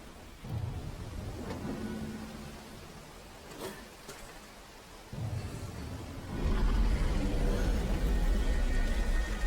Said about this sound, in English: Why does it sound like the rain is just pouring in from the ceiling?